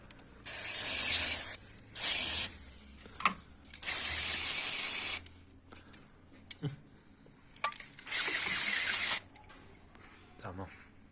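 Cleaner spray is blasted onto a car throttle body in four separate hissing bursts of one to two seconds each. Small clicks and handling noises fill the gaps, and someone speaks in between.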